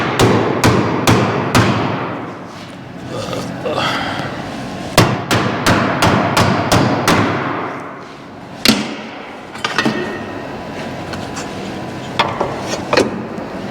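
Rapid metallic hammer strikes on a rusty car body panel, in bursts of several sharp blows separated by pauses, close and loud, with occasional softer knocks between the clusters.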